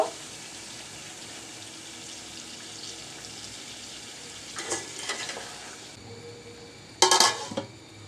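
Water is poured into a pan of chicken and bottle gourd as it cooks. A low steady frying hiss is broken by two short bursts of splashing and rushing water with some pan clatter.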